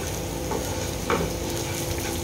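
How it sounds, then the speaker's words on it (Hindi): Masala sizzles and fries in a pan while being stirred, a steady close crackle broken by a couple of brief scraping stirs, for a Marathi chicken rassa. "एक दो मिनट इसे फ्राई करेंगे"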